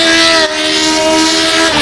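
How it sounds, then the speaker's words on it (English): A twelve-cylinder 1960s Formula 1 engine in the rFactor 2 racing game howls at a loud, constant high pitch, with a brief dip and a small wobble in tone as it holds on. "The engine is so much bigger in this car. All 12 cylinders behind me."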